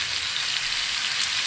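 Tomatoes cooking down in a pan for tomato gojju, a steady soft hiss and sizzle throughout, even and continuous with no talking.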